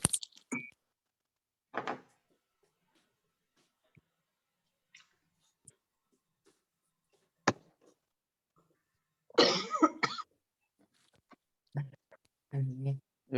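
A man coughs repeatedly in a quiet room where a heater is running, short harsh bursts separated by long silences, with a louder cluster of coughs and some talk near the end.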